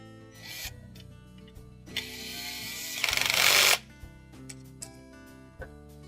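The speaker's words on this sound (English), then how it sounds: "we'll secure it with that 1/4-inch screw" A 1/4-inch screw being driven to secure a Maytag refrigerator's double outlet water valve to its bracket, with brief clicks and taps, then a short loud whirring burst from a power driver, followed by scattered small knocks.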